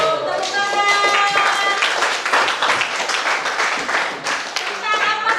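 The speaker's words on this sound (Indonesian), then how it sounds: "Tepuk tangan." A classroom audience claps together in a sustained burst of applause, loud and close, continuing steadily for several seconds.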